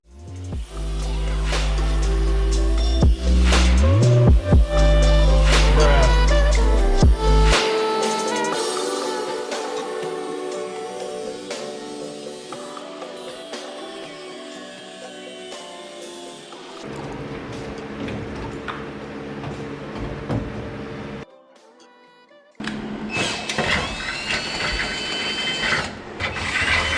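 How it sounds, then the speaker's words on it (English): An angle grinder cuts metal during a late-night drift car build in a garage, producing a loud, sustained whining grind that shifts in pitch, pauses briefly, then resumes. "I'm gonna pull out the angle grinder"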